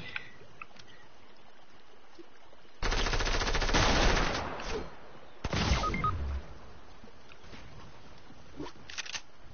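Bursts of automatic fire from a blue machine gun in a video game: a long loud rattling burst, then a second shorter burst after a pause, over faint background ambience.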